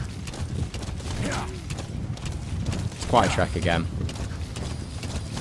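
Rhythmic hoofbeats of a horse in the video game Metal Gear Solid 5 clip-clop steadily beneath a voice talking, with a hollow, game-like quality and background ambience.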